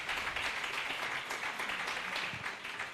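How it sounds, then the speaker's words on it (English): Audience applause for pharmacy panelists at a young pharmacists' event in Lagos, a dense, steady wash of clapping that holds at even loudness for the whole stretch. "A round of applause for them."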